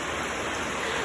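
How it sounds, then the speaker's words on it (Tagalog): Steady rain falls during a typhoon, a dense unbroken hiss of water pouring down, loud and close with no pauses. "So, nag-ulan. Ulan na, ayan."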